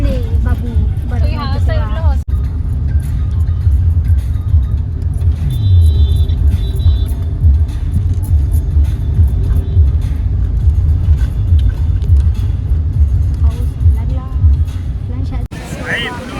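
A car engine idles and runs steadily with a low rumble throughout, close by, with voices talking over it and a brief jangle of keys.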